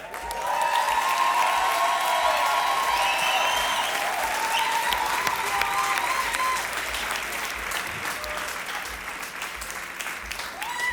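Sustained, dense audience applause honoring graduating students at a church event, loud and even for the whole stretch, with a few faint voices and cheers mixed in.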